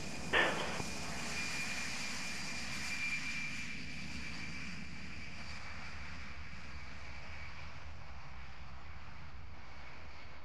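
A jet airplane rolls for takeoff, a distant steady engine roar with a faint high whine, broad and even throughout after a brief louder burst at the start.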